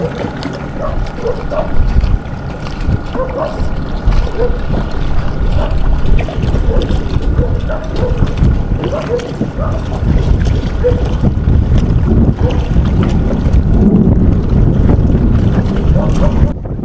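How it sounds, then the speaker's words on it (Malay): Strong wind roars across the microphone while sea waves slap and churn around a small fishing boat off Pantai Remis, a steady heavy rush with no talking. "angin dengan ombak terlampau kuat waktu ni"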